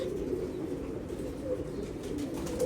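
Steady low cooing from a pigeon fills the moment, a soft, throaty, unbroken warble heard up close with a little background hiss and no talking.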